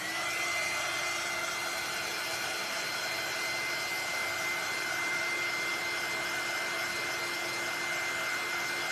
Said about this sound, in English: we're going to dry it with our heat